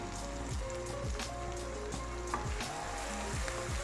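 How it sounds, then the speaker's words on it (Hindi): Onions frying in a pan with chopped tomato and green chillies for dhaba-style chana dal give a soft, steady sizzle with scattered crackles, fairly quiet and continuous with no talking. "प्याज को फ्राई होते भी तकरीबन 3 से 4 मिनट हो गए"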